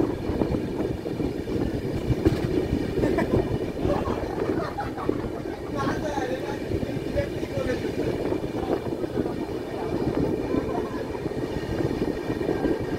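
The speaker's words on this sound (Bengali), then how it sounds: "আর ট্রেনটা যাচ্ছে পুরোপুরি সিঙ্গেল লাইনের ওপরে।" Kanchan Kanya Express running slowly on a single-line track through the Dooars forest, a steady continuous rumble of wheels and carriage noise with wind buffeting the microphone throughout.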